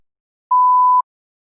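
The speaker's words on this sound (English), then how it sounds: "You may begin to prepare your response after the beep." A single electronic beep from a TOEFL speaking-test prompt, marking the moment to begin a response. It is a clean, steady mid-pitched tone lasting about half a second, surrounded by silence.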